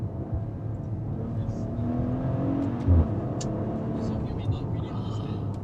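Maserati Levante S with a V6 engine revving from inside the cabin, a steady low engine growl that swells briefly, while a person talks over it.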